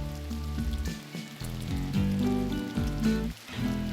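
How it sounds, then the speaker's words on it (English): Rain falls in the video game RimWorld as a steady hiss and patter that keeps on without a break, mixed with low tonal game sounds underneath. "Okay, rain. There we go."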